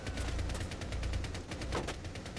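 Automatic gunfire in Rainbow Six Siege on the Bartlett U map during a team deathmatch Secure Area round: rapid, steady bursts of shots fill the whole stretch, loud and close with no pause.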